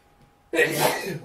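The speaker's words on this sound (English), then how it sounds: "is anyone keeping count of how many times I'm sneezing?" A single close sneeze bursts out abruptly after near silence and trails off over about a second.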